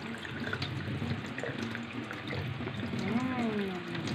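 Tapioca pearls for milk tea are rinsed under a running kitchen tap, giving a steady splashing water stream into a sink, with a voice speaking over part of it.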